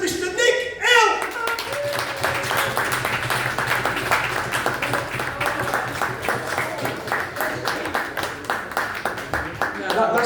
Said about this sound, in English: Just keep fucking clapping.